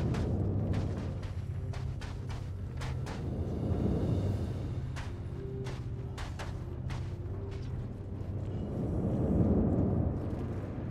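Spaceships firing Gatling guns during a player-versus-player event in Star Citizen: rapid sharp bursts of gunfire over a rumbling, booming background that swells and fades, loud and dense, with no voices.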